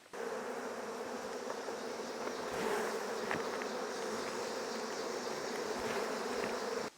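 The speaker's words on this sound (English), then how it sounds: "I just took a frame out of the green super and shook the bee." Honey bees buzz at a beehive during a check of a super, a dense, steady swarm drone close by that swells slightly midway and continues without speech.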